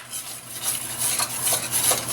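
A flour roux being stirred in a pan with scraping utensil strokes, a steady close rasping swish that swells and eases in repeated passes, with no voices.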